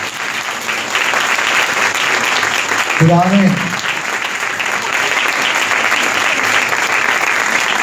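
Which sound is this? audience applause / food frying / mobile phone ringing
audience applause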